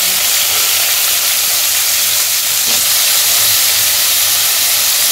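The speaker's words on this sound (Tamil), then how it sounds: "சீரகமும் மிளகும் கத்திரிக்காவை போட்டு வதக்கிக்கோங்க" Eggplant sautés in hot oil with cumin and pepper, giving a steady, loud, broadband sizzle with a faint scrape partway through, unbroken and free of talk.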